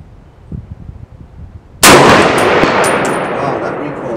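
A single loud SCAR 17S rifle shot fired with a muzzle brake cracks out sharply at close range, its blast ringing on and decaying slowly afterward, preceded by quiet low background rumble.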